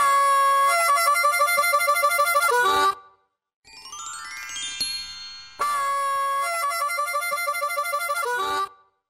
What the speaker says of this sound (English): It's a harmonica.